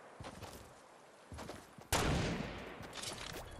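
Fortnite gunfire coming from a lake: scattered quiet shots build to a sharper, louder burst partway through, then continue as a steady rattle at moderate distance, with no talking.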